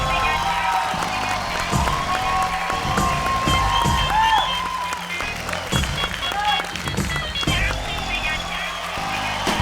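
A studio audience on a televised Indian dance show claps and cheers in a steady, loud burst that fills the whole stretch, with a host's voice talking over it.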